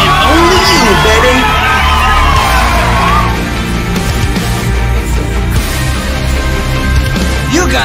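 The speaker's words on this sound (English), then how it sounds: "They're cheering for you and only you" Cheering and shouting crowd in the rhythm game Stepmania, a continuous roar of whoops mixed under loud game music throughout.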